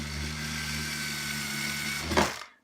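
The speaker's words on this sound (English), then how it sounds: "So we start off by putting these screws, drilling these screws into the wall" A power drill drives a screw into a wall, a steady high motor whine with harmonic hum that rises briefly near the end before cutting off sharply.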